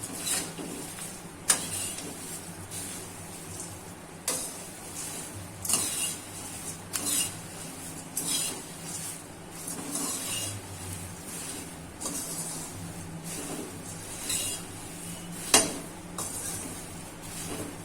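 Sev and puffed rice (mamra) tossed together in a pan: steady, repeated dry scraping and rustling strokes about once a second, moderately loud and close, with a soft hiss underneath.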